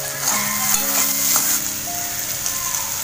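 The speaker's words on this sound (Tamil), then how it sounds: "வெங்காயம் வதங்கின பிறகு உப்பு மிளகாத்தூள் நம்ம போட்டோம்." Onions frying with salt and chili powder for dried fish thokku, a loud, close, continuous sizzle with occasional stirring scrapes and faint clinks of utensils, no voices.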